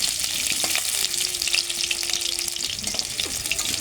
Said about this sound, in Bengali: আলুগুলো ভালো করে ভেজে নিয়েছি।